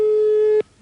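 An Italian SIP telephone line gives a steady, loud single-pitched tone for just over half a second, then cuts off abruptly into quiet line hiss.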